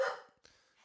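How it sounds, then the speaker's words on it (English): A single sharp dog bark, close and loud, fading quickly, followed by a fainter second yip a moment later. "That's my dog."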